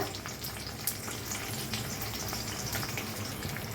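An egg fries in a pan seasoned with red chili powder, salt and turmeric, giving a steady, close crackling sizzle with small pops throughout.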